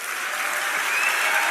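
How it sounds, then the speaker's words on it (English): A crowd at a live event gives a guest a round of applause, a dense, steady wash of clapping heard close and loud throughout. "one more round of applause for Mr."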